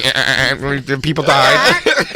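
A voice imitates a goat bleating with a loud, wavering, nasal vibrato, sustained across several quavering syllables close to the microphone.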